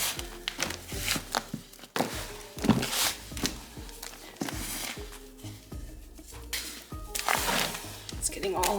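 Moist soil being mixed and broken up by hand for a snake cage: irregular soft thuds, crumbling and scraping at close range, along with some speech.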